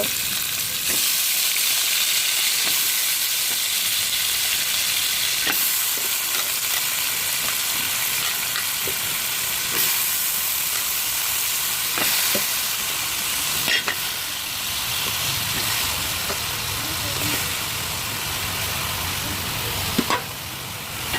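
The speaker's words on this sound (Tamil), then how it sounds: "எண்ணெயில் கொஞ்சம் நல்லா வதங்கணும் கத்திரிக்காய்." Salted brinjal sautés in oil in a pan while being stirred, giving a loud, continuous sizzle with occasional scrapes and clicks of the spoon, close up and with no talking.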